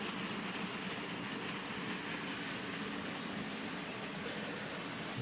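A Silver Jubilee train formation arriving, heard as a faint, steady rolling rumble with a soft, continuous hiss and no talking.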